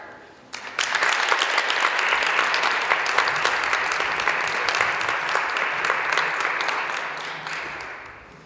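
An audience bursts into steady applause welcoming a speaker at a speech celebration event, clapping starting abruptly, holding loud and even for several seconds, then tapering off.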